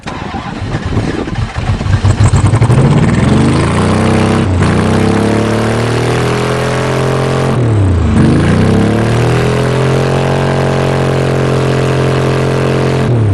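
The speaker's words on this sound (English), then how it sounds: "Well, that's full throttle." A loud Ford F250 diesel truck engine revs up hard and holds a high, strained roar, dipping briefly twice before climbing again and staying at full throttle.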